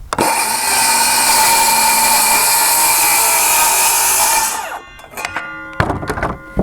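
A saw driven along an AccuCut jig slices through plywood with a loud sustained high whine for several seconds, then spins down, followed by a few knocks and clunks as pieces are handled.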